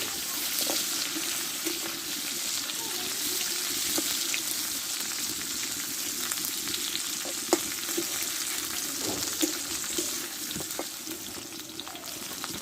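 Okra frying in hot oil in a pan, a steady close sizzle throughout with occasional stirring clinks, no talking.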